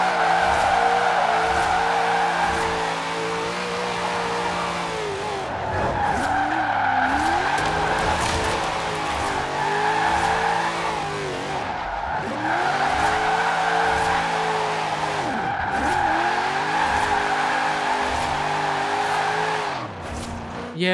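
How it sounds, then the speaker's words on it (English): Corvette Z06 drift build sliding in Forza Horizon 4, with sustained tyre squeal rising and falling over a steady engine drone through repeated drift passes. "it's probably better drifting at higher speeds, what I found, obviously, in the game"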